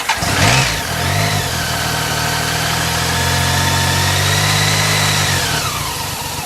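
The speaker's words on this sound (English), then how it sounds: "give the bike a run up to make sure you haven't done something horrible to it" A BMW K75 motorcycle engine starts with a brief rising rev, then settles into a steady, close, loud idle that holds evenly for several seconds before easing off near the end.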